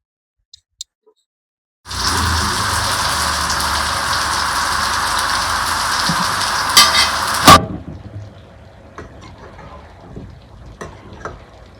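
Tomatoes and spices hit a hot pan with an abrupt loud burst of steady sizzling that holds for several seconds, then drops to a quieter crackle with faint scattered clicks.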